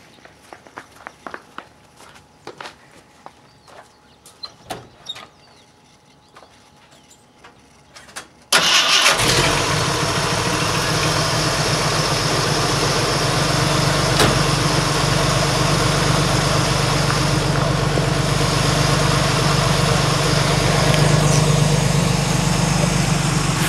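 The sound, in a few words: Jeep engine starting and idling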